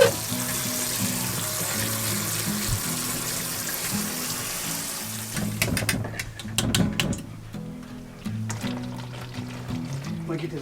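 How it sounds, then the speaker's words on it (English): Pasta being drained and rinsed with cool water at a camp cookout, a steady rushing pour that continues throughout, turning choppier with splashing toward the end, close by with brief background voices. "drain that, and then we're going to cool it off with some cool water"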